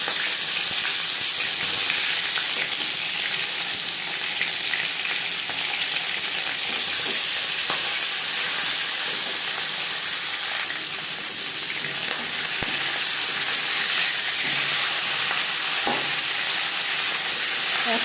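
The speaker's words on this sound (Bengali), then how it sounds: "এবার দিয়ে দেব ম্যারিনেট করে রাখা মাছের মাথা" Marinated fish heads fry in refined oil, a loud, dense, continuous sizzle and spatter running unbroken from start to finish.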